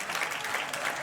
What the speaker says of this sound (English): give these fighters a nice warm round of applause